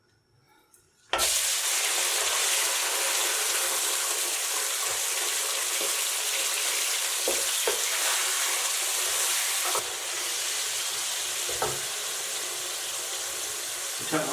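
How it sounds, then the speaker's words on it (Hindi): Chicken dropped into hot oil in a kadai, bursting into a loud, sudden sizzle after a second of near quiet, then a sustained hiss that eases slightly near the end, with faint clinks. "अब हम जो है वो चिकन को फ्राई करेंगे"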